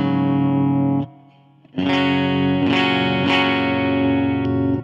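Clean electric guitar through a Roland Micro Cube's JC Clean amp model, chorus off: chords ring out, a short pause, then more strummed chords with bright attacks and sustained, slightly shimmering tone; no voices.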